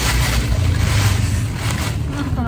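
Broad, steady outdoor rumble of passing motorcycle traffic on a street, loud and continuous, dominated by low engine drone with wind-like hiss throughout and no clear speech.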